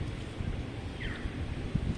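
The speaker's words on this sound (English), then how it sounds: "oh my God, it is very windy indeed." A strong wind blows steadily across the microphone, a constant low rumbling buffet with a brief gust near the end.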